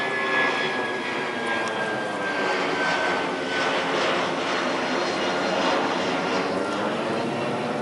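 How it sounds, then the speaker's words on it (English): An airplane flies overhead with a loud, steady engine roar that fills the whole stretch, close and sustained, with no talking. "hold on, airplane"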